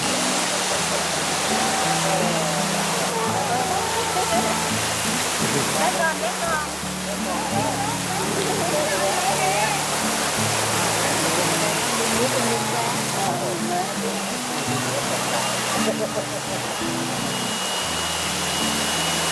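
Steady, loud rush of the Thi Lo Su waterfall fills the whole stretch, broad and constant, with a faint voice now and then underneath.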